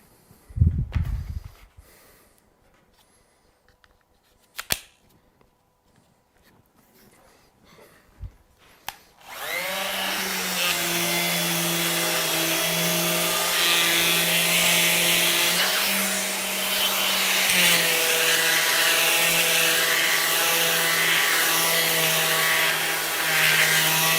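A Festool compact sander with a dust extractor attached starts up after a few clicks and handling knocks, then runs as a loud, steady whine with a strong hum and a slight pitch change partway through.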